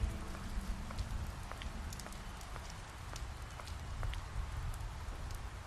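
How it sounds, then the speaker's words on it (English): Steady rainfall in the video game The Wolf Among Us, an even wash of falling rain with scattered droplet ticks, continuous and moderately close, with no voices. "It's constantly raining."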